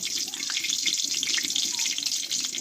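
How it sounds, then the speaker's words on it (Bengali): Water poured off bitter gourd, a continuous close splashing rush of running water, fairly loud and steady for the whole moment. "এবার জলটা আমি কিন্তু ফেলে দেব"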